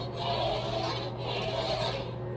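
A NeoPixel lightsaber's smooth swing effect, two broad whooshing hums that rise and fade in a row over a constant low drone, close and fairly quiet, with no voices.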